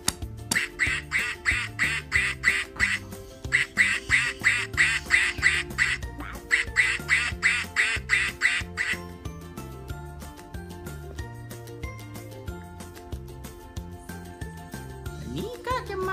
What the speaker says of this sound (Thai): อันนี้เป็ดนะ